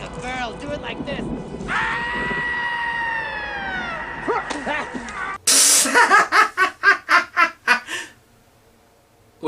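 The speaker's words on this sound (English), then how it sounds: "you scream like a girl" A film scene with screaming: a sustained, wavering high cry rises over background noise, then a loud burst gives way to a run of sharp, rhythmic shrieks that fade into quiet.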